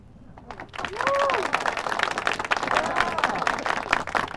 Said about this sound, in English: And when the final note of the tune plays out, a moment of silence, then a cheer breaks out.